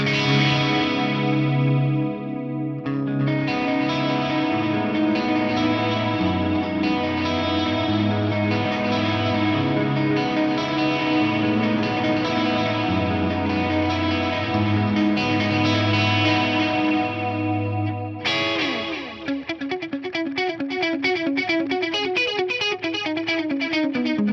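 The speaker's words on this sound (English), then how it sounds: "you basically just add delay to those detuned sounds, and then you get a pretty iconic kind of detuned delay" Shimmering, detuned guitar chords through an Eventide H3000-style delay wash together with trailing echoes, sustained and lush, shifting to a brighter repeating pattern near the end.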